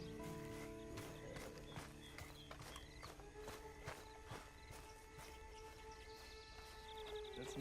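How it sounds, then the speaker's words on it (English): Horse hooves clip-clop steadily in the video game Red Dead Redemption 2, a continuous walking rhythm over a constant background with faint tonal game sounds. "Then you better get on this horse."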